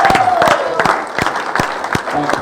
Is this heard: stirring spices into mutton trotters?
no